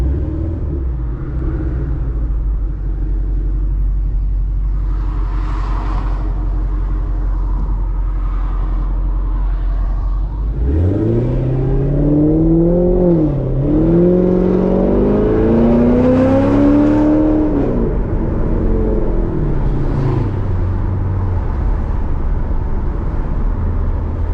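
A 2014 Corvette Stingray Z51 V8 engine rumbles steadily while cruising, then revs hard through rising and falling gears as the car accelerates, a loud, continuous close-up drone with no talk.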